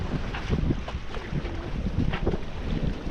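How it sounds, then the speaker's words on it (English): Sailboat running downwind between Ibiza and Mallorca, with steady wind buffeting the microphone and water rushing past the hull, close and continuous without talk. "so we're just doing downwind sailing"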